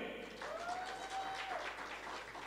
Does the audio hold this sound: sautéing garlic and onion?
no